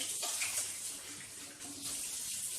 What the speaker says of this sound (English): So we give our hands a quick wash, and while Izzy finishes off there